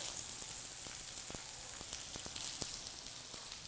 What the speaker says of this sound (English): add a little bit more oil. And I'm gonna add my kale